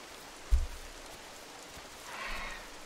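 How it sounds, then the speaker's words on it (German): Steady rain falls throughout a night scene in a dinosaur survival video game, a soft continuous hiss with a single low thump early on and a slight swell toward the end. "Es wäre schön, wenn es aufhören würde zu regnen"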